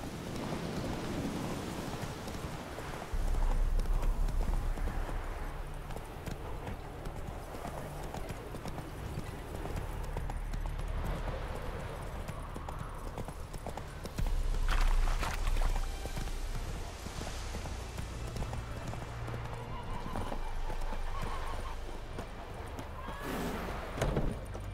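Roach, Geralt's horse in The Witcher 3, walks with steady clip-clopping hooves under an ambient wash of rain and distant rumbles, with occasional voices and game music.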